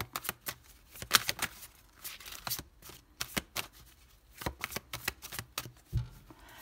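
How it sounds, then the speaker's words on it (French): Tarot cards are laid down one after another on a table, making soft, close flicks and slaps in an uneven rhythm, with no voice. "on pose les 6 cartes"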